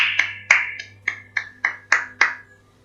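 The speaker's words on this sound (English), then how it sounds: "Claps." A string of eight sharp hand claps in uneven rhythm, close and loud over a steady low hum, celebrating a working feature during an Unreal Engine MMO live stream.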